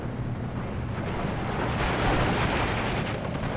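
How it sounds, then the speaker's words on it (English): A German 88 gun fires on a Sherman tank in the Steel Division 2 video game: a dense, rumbling battlefield roar of distant artillery and gunfire that swells slightly midway, with no talk. "'88 is firing on that Sherman now"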